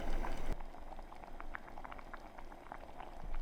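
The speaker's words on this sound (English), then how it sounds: "bring to the boil, then lower the heat and simmer for 15 minutes, stirring often until the lentils are soft and tender" Red lentil dahl with coconut milk bubbling in a pot, with a steady soft burble and scattered small pops after a brief knock at the start, close and moderately quiet, no voices.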